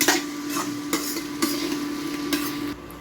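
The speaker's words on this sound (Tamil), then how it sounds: "இப்போ இதே போல் சிம்மிலே வச்சு நம்ம கோவக்காயை அப்படியே வதக்கினே இருக்கணும்" Ivy gourd (kovakkai) sautéing in a pan on low heat, stirred with a utensil that clinks against the pan about five times in a steady rhythm over a soft sizzle, close and fairly loud, no voices.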